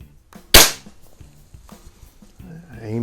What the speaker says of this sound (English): These are 7 grain pellets, and this one's shooting really low.